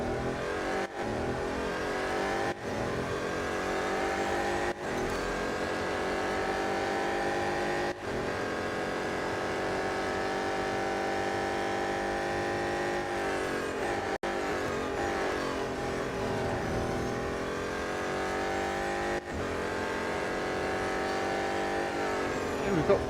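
BMW M Hybrid V8 race cars driving in Real Racing 3, a steady loud engine drone with rising and falling pitch as they accelerate, continuous throughout with brief gaps at gear shifts.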